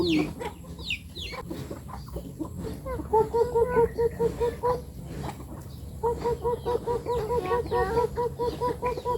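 Chickens cluck repeatedly in short, rhythmic bursts over a steady background hum, with several birds calling close by.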